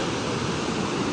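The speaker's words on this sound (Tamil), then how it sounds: "நேற்று தான் நம்மளுக்கு இந்த மதகுகளிலிருந்து தண்ணி ஓப்பன் பண்ணியிருக்காங்க" Water gushing from the sluice gates of Mettur Dam, a steady broadband roar of rushing flow, loud and continuous without break.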